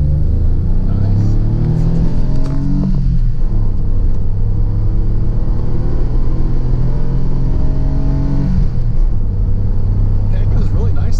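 A DeLorean drives and accelerates, its engine a steady low rumble whose pitch climbs and falls through the gears, continuous and fairly loud from inside the car, with voices talking over it.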